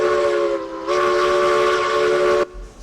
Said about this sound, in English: Sound the whistle, let the people know the train has arrived.